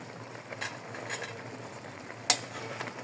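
Pork that was boiled in Sprite starts to fry in its own oil as the broth cooks down. A soft, low sizzle runs underneath, with a few faint stirring scrapes and one sharp utensil clink against the pan.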